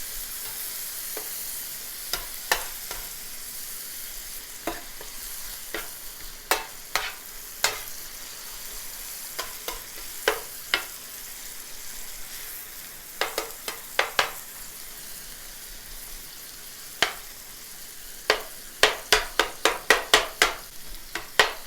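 Steak sizzling and frying in a pan for Philly cheesesteak, with browned onions nearby, under a steady hiss broken by repeated sharp scrapes and clacks of a spatula stirring the meat, louder toward the end.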